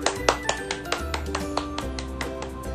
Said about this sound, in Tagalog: At malakas na palakpak para sa ating Panginoon.